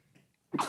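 A single sharp sneeze bursts out loud and close near the end, after a short stretch of quiet murmuring.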